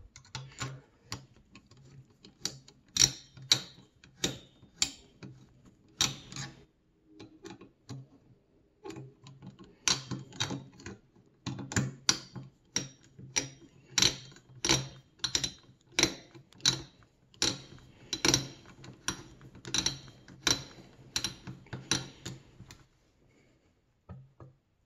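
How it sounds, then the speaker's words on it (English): Sharp cracking and snapping clicks while screws are driven into PC parts during a computer build, dozens of crisp ticks in irregular bursts, close and fairly quiet, with no talking. "as I was screwing it in, there was a bit like a weird cracking, snapping sound"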